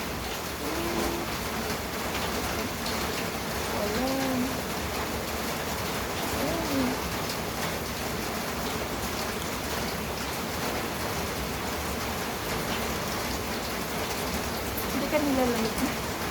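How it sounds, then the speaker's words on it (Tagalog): Steady rain falls throughout, a continuous even hiss with a faint watery wash, and a voice surfaces briefly over it. "No. Ulan."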